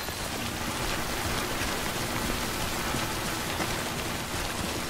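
Steady, dense rain pours down in the video game Death Stranding, a constant hiss of falling water with no breaks and no voices.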